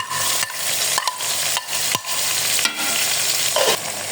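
Chicken, onions, garlic and ginger sizzle steadily in a hot pan, with periodic scraping and stirring sounds, close and fairly loud, no voices.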